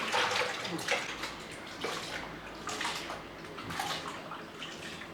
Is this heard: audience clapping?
no